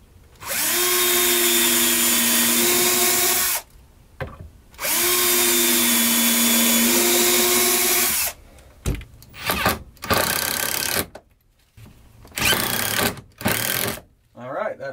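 Power drill whirs through holes in an RV cabinet in two sustained runs of a few seconds each, rising slightly in pitch, then shorter bursts and handling clatter follow, close up.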